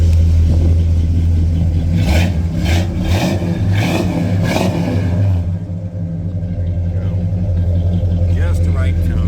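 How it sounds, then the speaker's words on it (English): A 1969 Oldsmobile 442 tribute with a 455 V8 and electric choke, heard through its exhaust as a loud, deep rumble that swells in several quick revs before settling to a steady idle. "We'll get a little shot of the exhaust tone."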